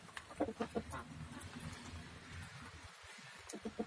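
Chickens cluck softly in short clustered calls at a coop on a rainy day, faint and fairly near, with quiet gaps between the bursts.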